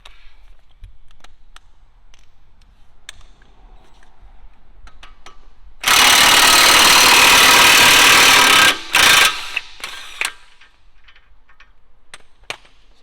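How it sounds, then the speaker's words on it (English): An impact wrench removing a wheel nut on a 2007 Subaru WRX, one loud close burst of hammering rattle lasting about three seconds, then a short second burst and a few clicks, with quiet shop sounds around. "we're just going to take it off with the impact."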